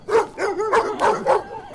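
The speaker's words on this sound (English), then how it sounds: "Get those dogs away!" Dogs bark in quick, repeated yips and bow-wows, about five close, loud barks in under two seconds with no talking.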